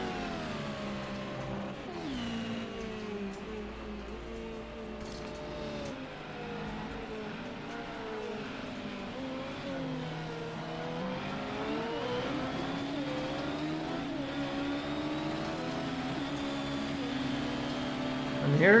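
Engines of race cars in a racing video game at Le Mans, several layered tones rising and falling through gears in a continuous racing drone, with a commentator talking over the top.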